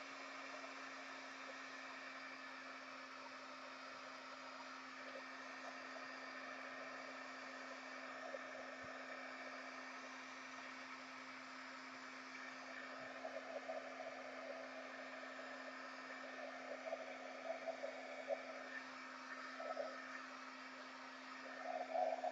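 Steady, faint rush of air blown over a craft project to clear its edges, a continuous hair-dryer-like whoosh with a constant hum, alone and unchanging throughout.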